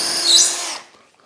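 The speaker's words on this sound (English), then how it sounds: "the very first thing I'm now going to do is to drill a hole just here" A power drill bores a hole through a UJK Parf guide workpiece, a short high whine that runs close and loud for under a second, then cuts off into near silence.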